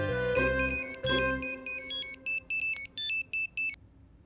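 A mobile phone ringtone for an incoming call, loud and close: a few sustained melodic tones, then a rapid run of bright repeating beeps that stops abruptly.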